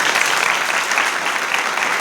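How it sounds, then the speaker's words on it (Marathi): A seated gathering at a devotional guru-worship ceremony in a spiritual school claps together, a full, continuous wash of hand claps at an even, fairly loud level throughout. "टाळ्या वाजवूयात आपण"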